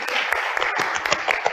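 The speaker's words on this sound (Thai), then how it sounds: "ขอเสียงปรบมืออีกสักครั้งหนึ่งนะครับผม" An audience at an award ceremony for a space flying robot programming challenge applauds, producing a dense, steady patter of many hands clapping at close range throughout.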